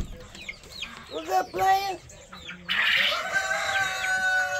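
Chickens cluck and squawk close by, with a rooster crowing partway through, while someone speaks briefly over the birds.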